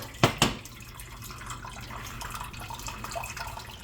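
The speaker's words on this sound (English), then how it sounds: "We're gonna strain it, very hot, into a saucepan." Hot forsythia tea poured through a canning funnel strainer into a saucepan, opening with two quick splashy bursts, then a softer steady trickle and drip close by.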